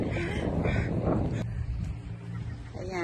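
Crows caw a few times along the seashore at Oak Bay in Victoria, BC, in spring, the calls close and sharp over steady wind and water noise, with a brief voice in the background.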